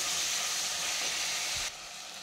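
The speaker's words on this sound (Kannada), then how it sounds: "ನಾನು ರುಚಿಯನ್ನು ಹಾಕ್ಕೊಂಡು ಫ್ರೈ ಮಾಡ್ಕೊಳ್ತಾ ಇದ್ದೀನಿ" Tomatoes fry with salt in a pan for upputtu, a dense, even sizzle close by with a faint stir before it drops off sharply.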